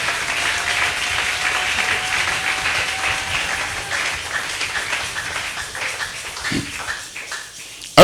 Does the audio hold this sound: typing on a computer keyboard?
no